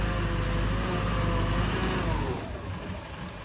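A truck engine rumbles steadily at low idle while the vehicle is being parked to load Ganesh idols in Konkan, then eases slightly quieter in the final second, with no talking.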